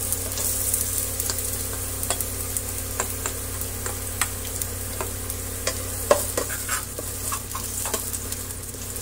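Onion and garlic sautéing in a pan for macaroni soup: a continuous close sizzle with frequent light scrapes and taps from stirring.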